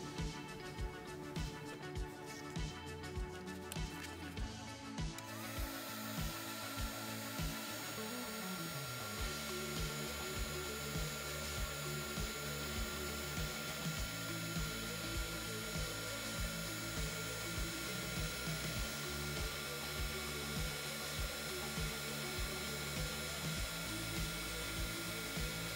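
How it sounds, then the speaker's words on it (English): Heat gun blowing on embossing powder on stationery: a constant close whirring hum with a steady airflow hiss, running unbroken throughout, with a shift in tone early on and no talk. "now it's ready to heat emboss"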